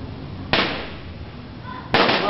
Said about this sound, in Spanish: Le tiran cohetes los chicos están tirando cohetes aquí al lado.